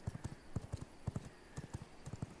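Steady clip-clop of horse hooves trotting at an even rhythm in the video game V Rising, fairly faint, over a low background hum.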